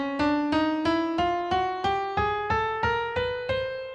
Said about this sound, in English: if you listen to a chromatic scale, which is nothing but half steps, it sounds like this